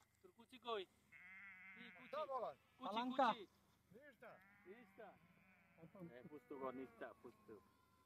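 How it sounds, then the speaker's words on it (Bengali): A large flock of sheep bleats repeatedly on a farm in Serbia, several animals calling in overlapping bursts at varying distances, with a faint insect-like buzz underneath. "অনেক ভেড়া"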